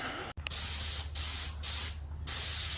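Airless paint sprayer fitted with a swivel and reversible tip spraying house eaves, heard as loud, close bursts of broadband hiss, four spray passes broken by short pauses, no talking.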